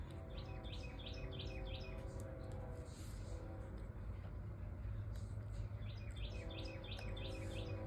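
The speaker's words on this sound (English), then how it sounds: "Those birds, they're so happy." Birds chirp in quick repeated bursts over a steady low rumble of distant traffic, faint and outdoors, with a gap in the calls midway.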